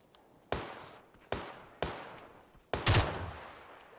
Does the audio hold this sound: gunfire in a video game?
yes